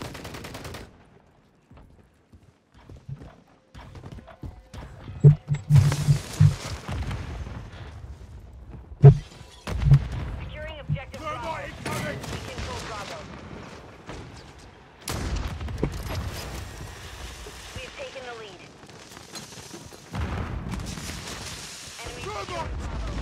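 Gunfire and explosions in the Modern Warfare 3 video game during an objective-capture match. Bursts of shots and a few sharp booms keep breaking out, some loud and close and some farther off, with talk running between them.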